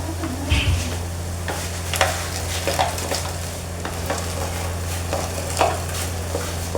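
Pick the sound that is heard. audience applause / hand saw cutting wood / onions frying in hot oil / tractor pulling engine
onions frying in hot oil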